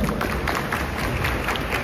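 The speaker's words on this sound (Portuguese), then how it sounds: "Uma salva de palmas para a Rô." Dense applause from a large crowd at a talk event, a continuous wash of clapping that stays loud and steady throughout the brief moment.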